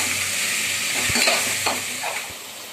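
Tomatoes sauté in hot oil in a pan for prawn biryani, a steady close sizzle with a few stirring scrapes and light knocks of the spoon.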